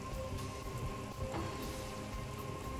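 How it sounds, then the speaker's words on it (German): Steady, continuous rain in the fantasy role-playing game Divinity: Original Sin, a dense hiss of drops falling alone with no voices, holding an even level throughout. "Es regnet doch sowieso schon."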